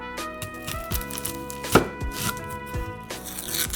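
A kitchen knife halves an onion on a cutting board with a run of sharp, close chopping knocks at irregular spacing, one standing out louder, and no voices.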